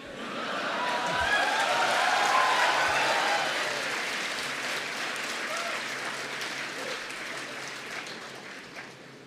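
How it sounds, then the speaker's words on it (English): An audience at a lecture on demonetization in the Indian economy breaks into applause, a broad crowd clapping that swells over the first few seconds and then slowly tapers off, with faint voices beneath. "and some of you are clapping"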